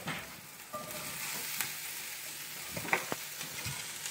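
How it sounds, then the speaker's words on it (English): Cauliflower sautéing with red onion and garlic in oil makes a close, steady sizzle, with a few sharp spatula clicks and scrapes on the pan. No voices are heard. "I'm sauteing my cauliflower."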